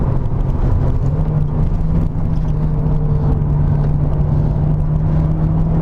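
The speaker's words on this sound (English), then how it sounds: "It really is a smooth revving engine" A 1990 Mazda Miata NA engine hums steadily from inside the car while driving, a constant loud drone with road and wind noise, the engine note holding fairly even without strong revving.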